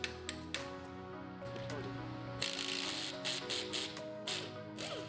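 A ratchet clicks in short bursts as it loosens the axle nut on a 2014-2018 Ford F150 4WD front hub, with metallic clatter of tools between strokes, close and fairly quiet.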